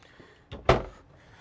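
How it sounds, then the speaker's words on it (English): Soft-close pull-out drawer in a 1995 Lance RV sliding shut indoors, a quiet slide followed by one brief cushioned thump, close and alone in a still room. "A couple of pull-out drawers that have soft close on them so they don't slam shut."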